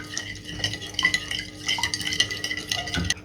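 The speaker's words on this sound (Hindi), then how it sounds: "अब इन सारी चीज़ों को अच्छे से मिक्स" Yeast is stirred into warm milk with a utensil, making repeated quick scraping and clinking strokes against the bowl over a few seconds, close and fairly loud, with no talking.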